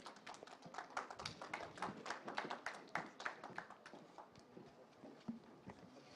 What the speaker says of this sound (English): Ladies and gentlemen, let's extend our great applause.